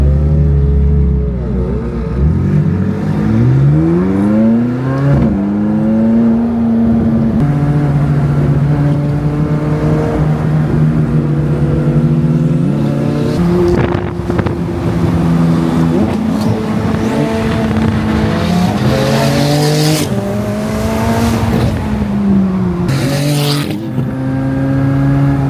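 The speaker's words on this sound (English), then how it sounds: "Do a burnout!" A car revs hard in a loud lineup of sports cars that includes a GT2 RS and a caged Miata, its engine climbing and holding high in sustained pulls for nearly the whole stretch, with brief voices underneath.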